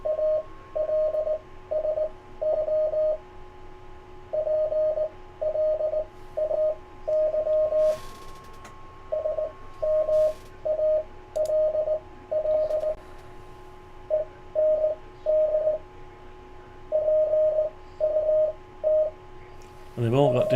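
Morse code CW tones from a Yaesu FT-891 radio, picked up by a PC microphone, beep in steady keyed dots and dashes at one pitch, loud and continuous, with a brief noise burst at the end.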